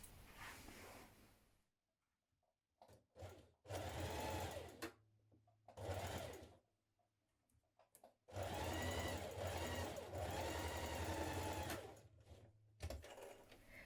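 A sewing machine stitching the shoulder seam of a fabric smock, running in several bursts of steady whirring, short stops and two longer runs, close and clear with silent gaps between.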